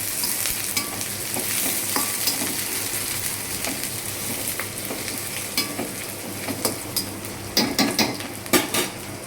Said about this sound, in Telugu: ఇప్పుడు కరివేపాకు వేసుకున్నానండి.